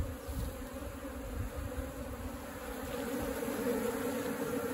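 Honeybees buzz steadily and densely at close range during a hive rescue from a manhole cover, a continuous drone that grows slightly louder toward the end, with no voices.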